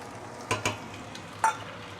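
Two eggs cracked into a hot wok for Penang-style fried noodles, a low sizzle under a few sharp clinks and taps of the utensil against the wok, close and quiet.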